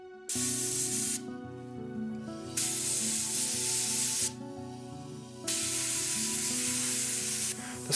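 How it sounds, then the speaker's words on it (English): Sandblasting a bronze sculpture to clean and even its surface produces loud hissing blasts in three bursts separated by short pauses, over a steady low compressor hum. "The sculpture is then sandblasted to remove grease and grime and to give an overall even finish to the surface."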